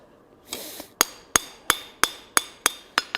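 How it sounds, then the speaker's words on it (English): Hot steel struck on an anvil while upsetting the corner of a forged decorative wrapped handle for a bending fork: a steady series of about eight sharp, ringing hammer blows, close and loud, with no talk. "I'll start hammering that up. I'll start upsetting that corner a little bit"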